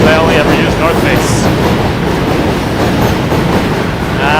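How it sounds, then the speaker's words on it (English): Z subway train rumbling past beneath a bridge in New York City, a steady, loud, continuous roar of rail cars with faint clickety-clack, heard close from above throughout. "Z trains passing under us"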